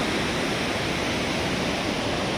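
Heavy river current surges under the colonial-era Jokadia bridge in Jajpur, producing a constant loud broadband rush that never lets up, with no voices over it.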